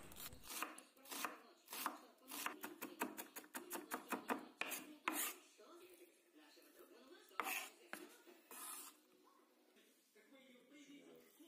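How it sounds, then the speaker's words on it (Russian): An onion chopped with a knife on a board for a fermented red mustard greens filling, fast close repetitive knocks that quicken, then slow into scattered cuts and scraping, quiet overall. "Луковицу также пропускаем через мясорубку, либо измельчаем при помощи ножа."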